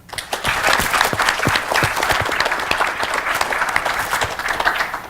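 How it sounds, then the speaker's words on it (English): Audience applause at a teachers' conference, loud and sustained for about five seconds of dense clapping from a crowd. "So huge round of applause for this guy."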